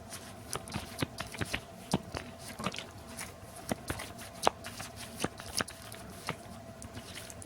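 Playing cards are shuffled during a tabletop card game, a quiet run of crisp riffling snaps and soft slaps repeating in irregular bursts close by, with no talk over them.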